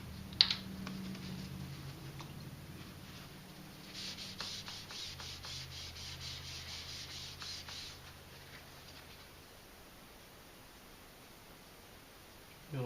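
A shop towel with rubbing alcohol rubs and wipes oil off a Ruger American rifle receiver, a soft, close scrubbing swish running steadily for several seconds, then fading to quiet.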